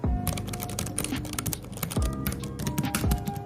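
Typing on a Keychron K3 V2 low-profile mechanical keyboard, a rapid run of close, crisp key clicks and thocks with brief pauses, alone and fairly loud.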